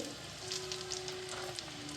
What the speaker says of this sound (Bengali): আমি গ্যাসটা খুব ধীরে রেখেছি তাহলে ভিতরটা ভালোভাবে ভাজা হবে